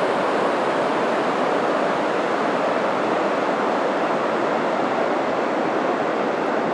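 A waterfall on a river along the Trans-Labrador route roars as a steady, loud, broad wash of falling water that holds constant throughout with no voices.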